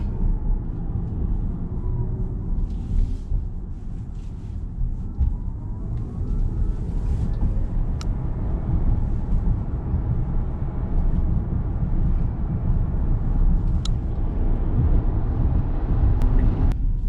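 Tesla Model Y Long Range or Performance rolling over a ramp, with a steady low road and cabin rumble throughout, a couple of faint sharp clicks, and no talking.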